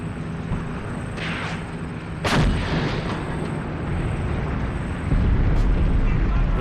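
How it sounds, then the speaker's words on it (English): Artillery fire in a WW2 North Africa tank warfare video game: a sharp loud boom, then a later deep rumbling impact, over continuous battle noise with some background voices. "Really just goes to show the power of artillery."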